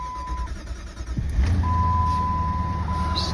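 A Jeep engine starting: a low rumble catches and settles into a rough, steady idle close by, with an intermittent high electronic beep over it.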